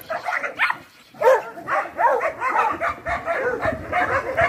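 A pack of dogs barks and yips continuously, several animals overlapping in a loud, dense chorus close by during a rural ranch-work scene, with occasional whimpers mixed in.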